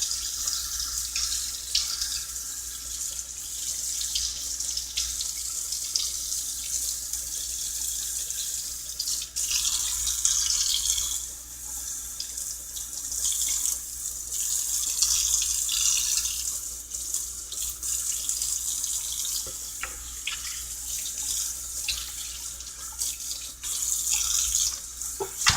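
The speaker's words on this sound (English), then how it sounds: "And then rinse it out backwards too." Running tap water pours steadily over aquarium filter media from a large Aquaclear saltwater filter as it is rinsed out, a continuous close splashing hiss with small shifts in flow and no voices.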